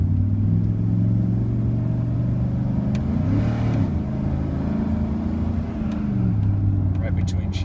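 A lifted 2000 Chevy 2500 4x4 single-cab pickup idles with a steady low engine drone, then revs briefly and settles back to idle, heard close and loud with possible voices nearby.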